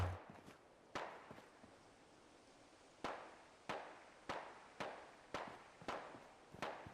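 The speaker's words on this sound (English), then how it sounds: "I hear gunshots." Sharp cracking gunshots in Fallout 4 at irregular intervals, then a quicker series of similar bangs, each with a short decaying tail, moderately loud and alone.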